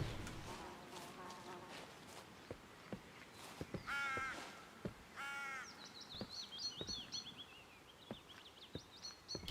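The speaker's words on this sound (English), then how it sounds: "I love the natural sound effects too, the birds chirping and stuff like that." Birds call and chirp in short bursts in the video game Book of Travels, over a quiet background, with soft clicks and rustling scattered throughout.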